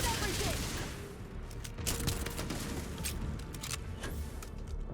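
Gunfire in a Starfield shootout: repeated sharp shots crack at irregular intervals over a dense, noisy game soundscape, with voices mixed in.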